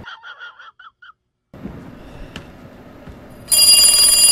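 Telephone ringing in short repeated chirping bursts, followed by a quiet stretch of low rumble and then a sudden loud bright ring near the end.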